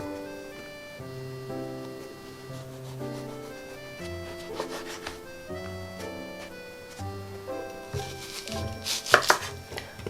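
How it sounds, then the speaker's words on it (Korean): An onion is finely sliced with a knife on a cutting board for mini beef burgers, with soft rhythmic chopping taps, busier toward the end, under background music. "양파 하나도 곱게 채를 썰어 줄 거예요"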